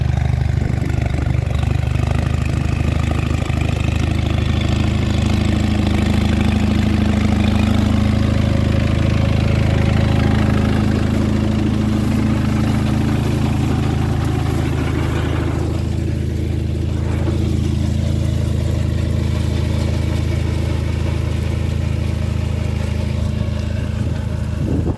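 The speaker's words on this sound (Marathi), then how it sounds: "हे छोटा ट्रॅक्टर आहे बघा, असं करतो बघा," Small tractor engine running on a farm, a close, steady low-pitched drone that holds throughout with a slight change in tone midway, no talk.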